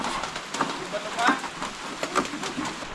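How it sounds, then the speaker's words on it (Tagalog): Rain falling on a rooftop, a steady close patter with scattered sharper drops, with voices talking over it. "Itong ulan na to, pag ganitong oras"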